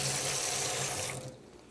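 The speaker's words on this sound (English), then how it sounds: "let me quick rinse my hands off." A kitchen faucet runs steadily into the sink while hands are rinsed, a close, even hiss of water that cuts off near the end.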